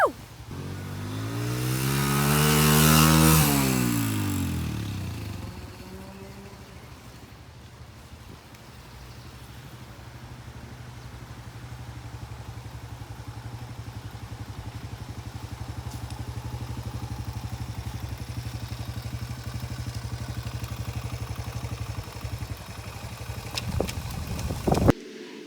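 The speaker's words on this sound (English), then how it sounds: "So that was me riding my Suzuki DRZ 125." Almost brand-new Suzuki DRZ 125 dirt bike: its engine revs up loudly and falls back, then settles into a steady, fainter drone as it rides on.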